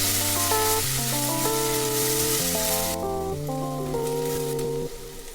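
Onion, garlic, lemongrass and pandan leaves fry with cinnamon and star anise for nasi lemak, a bright steady sizzle running under background music, quieting somewhat toward the end.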